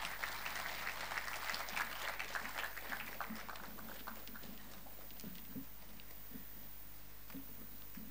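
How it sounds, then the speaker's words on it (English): An audience at an international scientific conference breaks into applause, dense clapping that is strongest at first and then thins into scattered claps, heard from within the hall. "More applause for our guest of honor."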